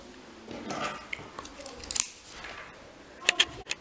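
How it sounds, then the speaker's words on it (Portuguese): Scissors snipping through knit sweater fabric while turning the upper part into a cropped top, with a few short, close cutting crunches and sharper snips near the end, no talk. "Então eu vou cortar aqui,"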